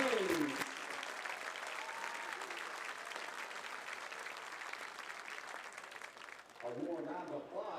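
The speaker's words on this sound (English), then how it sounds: "A warm round of applause" A crowd at a WPIAL high school football game, Gateway at North Hills, applauds steadily through a hall of fame induction ceremony, a dense sustained clapping that fades near the end as a voice returns over it.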